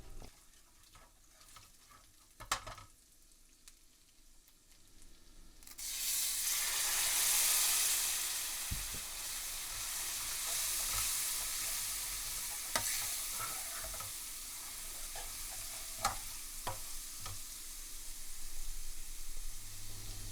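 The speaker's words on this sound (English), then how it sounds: "you're looking to gently fry the spices" Spices frying gently in a pan for a vindaloo curry, starting with quiet stirring and clinks before a loud sizzle surges up and holds steady, with occasional scrapes of the spoon.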